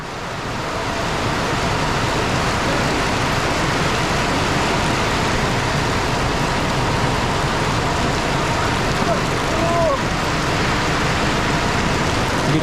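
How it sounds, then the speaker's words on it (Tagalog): Heavy rain pouring down outside in a downpour, a loud, dense, unbroken roar that holds steady from start to finish, with no speech over it. "ang lakas po ng ulan"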